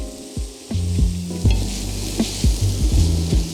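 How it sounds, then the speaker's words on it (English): Frozen peas being stirred through frying vegetables in a pan: steady sizzling with repeated clacks and scrapes of a utensil against the pan, close and fairly loud, no talking. "I stir them through the other vegetables for a couple of minutes until they've thawed"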